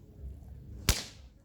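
One loud, close whip crack from an upper-hand throw snaps sharply out of a quiet outdoor background and fades quickly.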